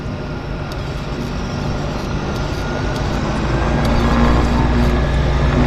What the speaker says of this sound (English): This will be our first Twin Otter departure of the day.